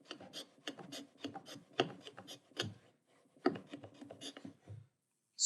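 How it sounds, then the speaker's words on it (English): Hand plane taking light shooting passes across the end grain of a wooden table part, giving a run of close, sharp rasping strokes in quick rhythm, then a short pause and more strokes. "Super light shooting will clean up that end grain"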